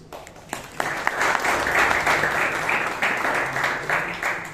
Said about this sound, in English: A round of applause for that wonderful speech.